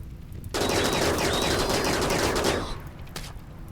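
A sustained burst of rapid gunfire from the video game RimWorld, with a SNR RiftWorld mod, lasting about two seconds and starting and stopping abruptly, with softer scattered shots afterward.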